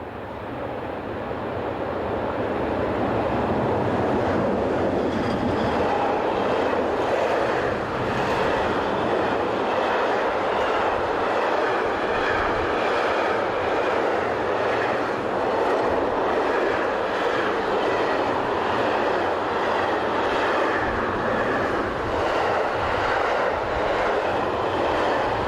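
Freight train hauled by Luxembourg Class 3000 and Belgian Class 13 electric locomotives, a steady loud rumble and roar of passing wagons sustained throughout with faint rhythmic clatter.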